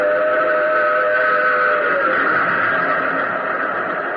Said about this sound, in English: plunging from the tunnel's mouth, like some black, terrible monster, roared a train. It tore by me in a deafening roar.